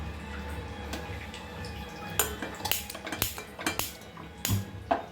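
A metal pan set on a stove with clanks and clatters of cookware, a quiet stretch first and then a run of sharp knocks and rattles close by.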